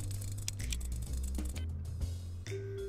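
Game soundscape from No One Lives Forever 2 with a planted explosive ticking on an elevator door, steady mechanical clicks running under a loud, dense mix of music and ambient tones.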